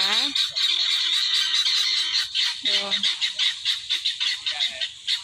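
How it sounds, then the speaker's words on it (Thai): Loud, close fowl calls ring out on a Thai garden farm, repeated squawking and honking cries in a rapid series, with a voice speaking over them. "นี่นี่คือไก่ป๊อกนะคะ"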